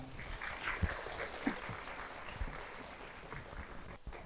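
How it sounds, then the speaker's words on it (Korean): Faint, distant applause from an audience at a school admissions strategy seminar, a steady patter of clapping that carries on for several seconds without any voices. "큰 박수 부탁드립니다."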